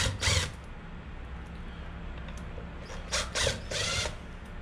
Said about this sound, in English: So we got four screws back here holding the back plate on. Basic Phillips head. Let's pop these out real quick.